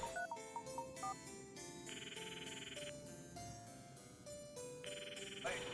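In the Famicom Detective Club video game, a phone rings after dialing: chiptune music with a steady synthesized melody, and two buzzing ringtone bursts, each about a second long, over it.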